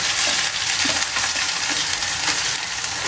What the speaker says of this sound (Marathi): मासोल तांतू फ्राय करचो